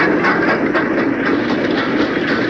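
LMS 4F steam locomotive 44045, from Gloucester Barnwoods, passes with a train: a steady, loud rumble of wheels and rolling stock with a rhythmic clickety-clack over the rail joints, heard throughout without any voices.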